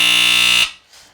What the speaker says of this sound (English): Yes, it's a smoke detector.